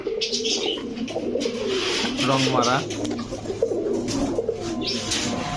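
Pigeons, including Giribaz, coloured and racer pigeons for sale, coo in low, throaty bursts while someone talks over them, with other birds faintly chirping in the background.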